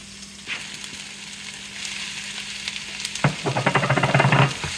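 Cheese dip of milk and melting cheese heating in a pot, with a faint sizzle that turns into a louder, rhythmic run of stirring scrapes near the end.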